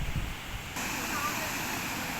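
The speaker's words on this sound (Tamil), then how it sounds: "தண்ணி எப்படி வருதுன்னு பாருங்கள் சூப்பராக ஊற்றுது" Steady roaring rush of water falling at Thirumoorthy waterfalls, a dense broadband wash that shifts slightly partway through, with no voices heard.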